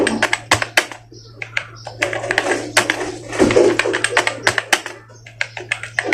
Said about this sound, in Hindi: स्क्रीन पे मेटा देखिए कैसे टाइप हो रहा है